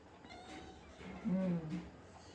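A cat gives a single drawn-out meow up close, preceded by a couple of soft, faint mews.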